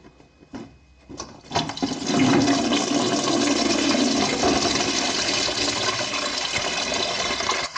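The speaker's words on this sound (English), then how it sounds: "There's all the water coming out now." Coolant drains out of a 1.9 TDI 130 hp 4MOTION VW Passat cooling system into a bucket, starting with a few knocks before a loud, steady, close gushing stream pours continuously, with no voices.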